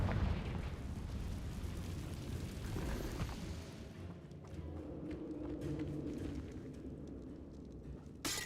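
Confringo spell blast in the video game Hogwarts Legacy, a loud, close, broad fiery burst that booms for several seconds, then decays into a lower rumbling roar with crackling debris.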